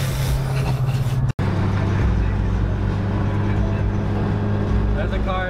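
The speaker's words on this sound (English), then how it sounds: "There's a car coming up on my left." A car passing close on the left shows as a steady, loud engine rumble and road noise that fill the whole stretch, with only a momentary dropout partway through.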